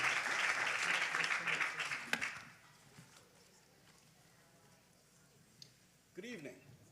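Audience at a pitch competition applauds for the next presenter, loud dense clapping for about two seconds that cuts off into quiet room tone; a brief voice sounds near the end.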